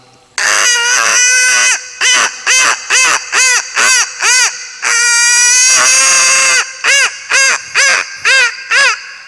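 A man imitates a hen cackling while laying an egg, a loud comic run of squawking, honking calls, first long drawn-out cries, then a rhythmic series of short clucks, close and clear with no other sound.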